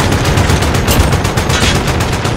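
Video game gunfire, loud rapid bursts of automatic shots cracking close by in a continuous volley with no pauses and no talk over it.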